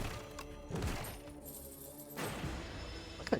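Gold coins burst out as a reward in the Slay the Spire 2 video game, a quick scatter of bright clinking and jingling chimes over soft game music, with a louder metallic flourish at the end.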